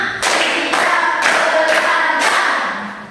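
Classroom of students clapping in unison during a counting game, four or five sharp bursts of group applause in a steady rhythm, close and loud with no talk over them.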